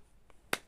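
A single sharp finger snap from an anime character in Chainsaw Man, crisp and close, preceded by a faint softer tick and otherwise quiet.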